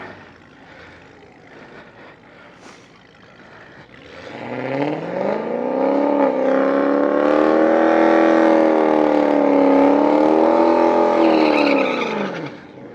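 A drag racing motorcycle engine starts and settles into a loud, rising and falling harmonic drone that holds for several seconds before dropping away, close by.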